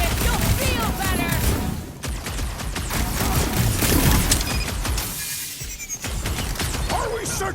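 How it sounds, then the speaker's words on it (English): Rapid, dense gunfire fills a firefight in the Guardians of the Galaxy video game at a Nova Corps outpost, with continuous loud blasts and crashes layered under shouted voices. "Just don't stop shooting!"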